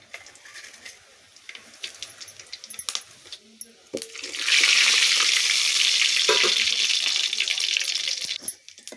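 Quiet clinks and light kitchen noises, then spices for kuzhambu hit hot oil in a loud, steady sizzle that holds for several seconds before tapering off.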